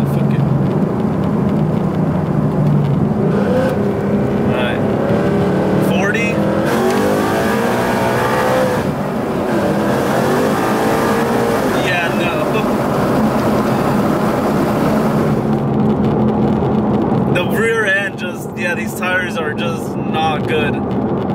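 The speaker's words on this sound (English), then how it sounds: "I'm gonna do another second gear 40 roll" A Ford Mustang pulls hard in second gear from a rolling start, its engine roaring and climbing steadily in pitch for many seconds, loud and close, then easing off with a drop in revs near the end.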